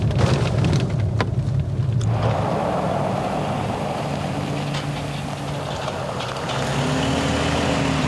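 Steady morning rain drumming on a moving vehicle during a drive on the Allegheny Discovery Route in December, a continuous broadband wash over low road and engine rumble, fairly close and even throughout with no talking.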